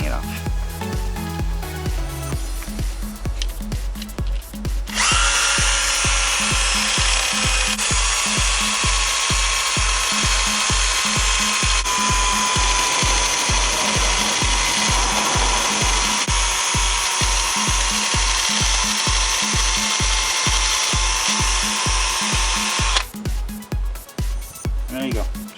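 A cordless power tool with a wire brush or abrasive scrubs rust off a brake caliper slide pin during a pad and rotor change, running loud and steady for about eighteen seconds between shorter bursts, with the tool slowing as its battery runs low.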